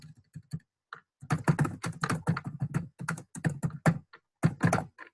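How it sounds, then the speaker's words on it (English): Typing on a computer keyboard, with quick, close clusters of clicking keystrokes in irregular bursts separated by short pauses, alone. "Type that in"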